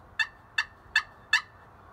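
Four sharp, evenly spaced clucks from a Buck Baits Game Day slate friction turkey pot call, crisp and close with quiet gaps between them.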